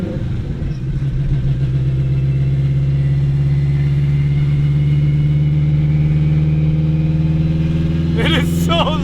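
An 800hp turbocharged AWD Acura RSX Type-S idles in stop-and-go traffic, heard from inside the car as a loud, steady, droning exhaust rumble that continues throughout, with a brief higher chirp near the end.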